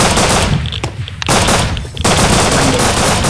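Automatic gunfire in the survival video game Rust, loud rapid bursts filling most of the moment with two short gaps between volleys.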